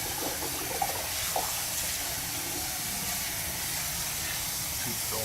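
A soil sample with clay and friable particles is rinsed with running water. The flow makes a steady hiss with a couple of faint clinks near the start and a soft voice underneath.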